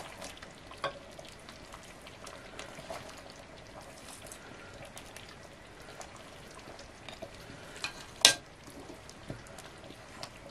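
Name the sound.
meat searing in a pan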